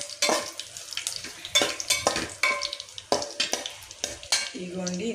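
Tempering spices sizzling in hot oil in a pan while cooking ridge gourd curry, with repeated scraping stirs and spoon clatter cutting through a bright crackling fry, close and without talk.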